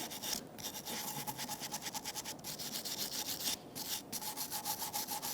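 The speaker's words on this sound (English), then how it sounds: "I'm going to take a wire brush And I'm gonna scrape any chance of the rust being there." A wire brush scrapes rust from a rear brake caliper bracket on a 2013–2018 Toyota RAV4, a close, harsh, continuous back-and-forth scratching in a fast rhythm with brief pauses between strokes.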